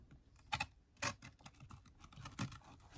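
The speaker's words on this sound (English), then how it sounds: "I'm going to use a knife to cut here." A craft knife cuts along a line on a worn, slightly falling-apart junk journal cover, giving a series of short, crisp scraping strokes at an uneven rhythm, close and fairly quiet with no talk.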